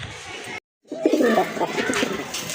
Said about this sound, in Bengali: একজোড়া কালদম কবুতর দেখেন, এটা কিন্তু খুব চমৎকার ডাকে